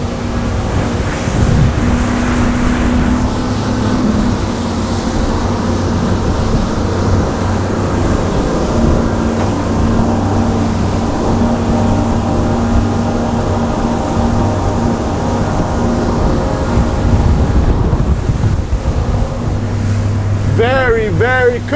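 A Zodiac X10 boat speeds over open water on a sea trial. Its engine gives a steady loud drone, with rushing water and heavy wind buffeting the microphone throughout.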